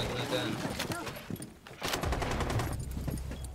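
Rapid automatic gunfire in Rainbow Six Siege, several dense bursts of close, loud shots with brief gaps, under gameplay noise and talk.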